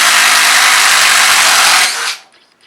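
A DeWalt 887 impact driver whines loudly and continuously as it backs screws out, then cuts off abruptly near the end, leaving a brief low rattle.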